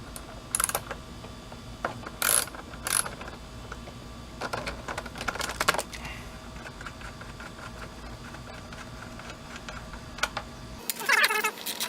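Ratchet on 10mm bolts holding the cover of a Craftsman self-propelled mower, heard as scattered bursts of quick clicking at close range, with separate clacks and a louder rattle of handling near the end.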